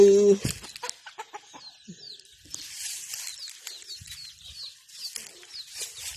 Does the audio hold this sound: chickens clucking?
yes